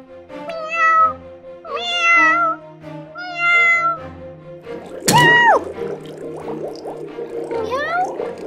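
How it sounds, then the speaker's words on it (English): A kitten meows in a Paw Patrol Moto Pups toy rescue scene, several drawn-out mews in a row followed by a sharp squeal, with talking and light clatter around it. "We have to save a lost kitten."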